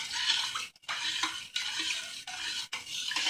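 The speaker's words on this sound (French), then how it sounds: "On mélange un peu." A spoon stirs a chamia mixture scented with orange blossom water in a bowl or pot, giving a run of scraping, swishing strokes broken by brief pauses, close and fairly quiet with no talk.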